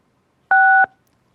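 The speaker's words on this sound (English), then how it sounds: "follow the prompts to unmute at this time by pressing *6" A telephone keypad sounds a single short dual-tone beep, loud and clean, as a caller dials into a public meeting line to unmute, followed by silence.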